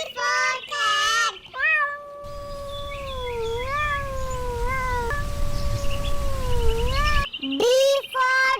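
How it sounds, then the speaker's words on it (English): A cat meows in long, wavering, drawn-out cries inside a children's alphabet phonics song, loud and close, with music around the calls. "C for cat."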